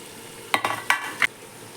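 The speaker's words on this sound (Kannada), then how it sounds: "ಇವಾಗ 2 ಟೊಮೆಟೊ ಸಣ್ಣದಾಗಿ ಕಟ್ ಮಾಡಿ ಇಟ್ಕೊಂಡಿದ್ದನ್ನು ಹಾಕ್ಕೊಳ್ಬೇಕು" Chopped tomatoes go into mutton keema frying in a pan and are stirred, producing three or four quick scraping, sizzling strokes over a low background hiss, close and with no talking.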